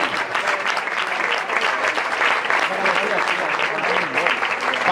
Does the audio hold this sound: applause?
yes